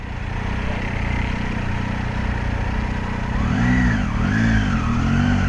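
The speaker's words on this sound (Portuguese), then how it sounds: "Deixa eu jogar aí a motinha pra dentro." A small motorcycle's engine idles steadily up close as it is pushed inside, then revs in a series of rising and falling swells.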